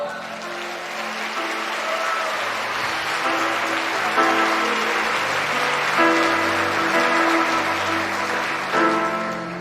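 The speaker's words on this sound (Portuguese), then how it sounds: "Você pode aplaudir o Senhor?" A church congregation applauds during a service, with steady, full clapping throughout and sustained musical tones from an instrument or singing running underneath.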